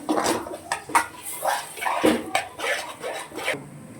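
Eggs cracked and beaten in a bowl, with rapid clinking and scraping of utensil against dish in uneven bursts, close and clear, with a faint cough-like sound among them.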